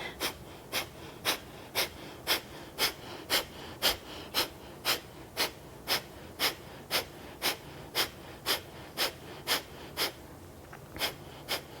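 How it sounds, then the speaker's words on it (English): Forceful rhythmic exhales from a yoga breathing exercise, a steady train of about twenty sharp nasal pumps at an even quick pace, close and distinct, with no speech. "Really have that pumping going on, and that's the exhale that pushes that."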